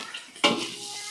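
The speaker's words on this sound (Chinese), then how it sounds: "下入葱姜大料，继续翻炒。" A metal spatula scrapes and clanks once against a wok as pork belly is stir-fried with scallion, ginger and star anise, a single sharp clatter over a faint sizzle.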